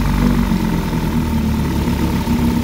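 A freshly rebuilt carburetor engine idles down, giving a loud, close, steady low throb with an even mechanical rhythm throughout.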